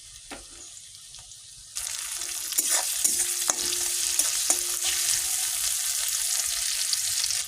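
Onion hits hot oil in a pan already holding cardamom, and a loud, steady sizzle starts abruptly. Scraping from stirring and a few clinks sound over the frying, with no speech.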